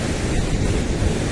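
The Alaknanda river rushes at its Vishnuprayag confluence with the Dhauliganga, a loud, steady, broadband roar of flowing water with no pauses or voices.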